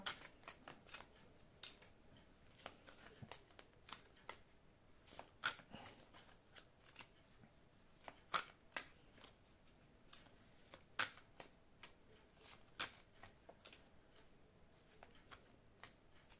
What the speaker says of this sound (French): je vais couper le jeu et je vais recouvrir les cartes